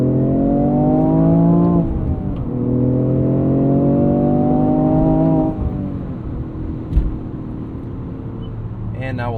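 A 2026 Toyota GR Corolla hot hatch with a 300 hp engine revs hard after a downshift, with two long rising engine pulls, each swelling and then dropping, loud and close from inside the car.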